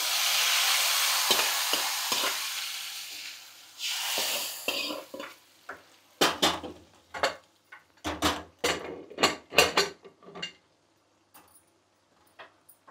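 A dal tadka tempering with garlic sizzles in a pan, a loud hissing fry at first that fades, then a run of sharp metallic scrapes and clinks from a spoon stirring against the pan, no voices.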